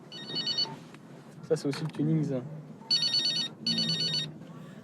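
An old telephone bell rings in short trilling bursts, two at the start and two more near the end, close and clear, with people talking in French between the rings.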